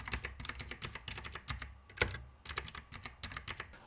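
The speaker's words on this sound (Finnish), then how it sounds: "tämä on tämmöinen klikkaava kytkin, eli siinä on tämmöinen ääni-feedback myös siitä," A Logitech G Pro mechanical keyboard with clicky GX switches is typed on steadily, producing rapid, crisp clicks in an irregular rhythm, heard close and alone in a quiet room.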